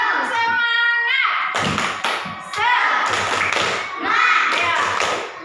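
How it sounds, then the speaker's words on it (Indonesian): A classroom of children doing the rhythmic 'tepuk semangat' clap, sharp patterned claps and slaps mixed with loud chanting voices, in several quick bursts close to the listener. "Tepuk semangat."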